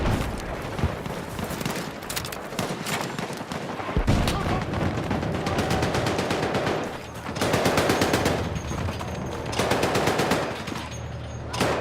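Sustained machine gun fire in the military shooter Battlefield 6, a dense, continuous barrage of rapid bursts and heavy shots that swell and ease in waves, with no clear speech over it.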